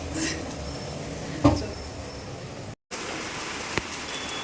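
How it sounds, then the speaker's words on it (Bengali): Rain falls steadily outdoors, a faint, even hiss of drops on surfaces with a couple of isolated knocks and a short dropout midway. "কি বৃষ্টি শুরু হয়েছে"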